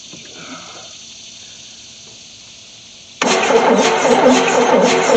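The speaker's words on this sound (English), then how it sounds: "I'm force feeding it fuel, so it should fire up" An old 1973 Chevy C10 pickup truck engine, abandoned for 27 years, cranks quietly for a few seconds, then suddenly catches and roars loudly to life, running rough and steady close by.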